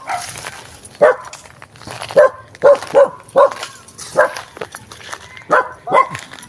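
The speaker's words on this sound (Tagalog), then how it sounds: "Ay, may aso." A dog barks repeatedly outdoors at a vacant grassy lot being cleared, sharp barks in irregular pairs and singles, fairly close and loud with little else around.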